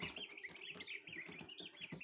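Newly hatched chicks, only a day or two old, cheep and peep continuously in a busy, overlapping chorus of high, thin chirps, close by and steady throughout.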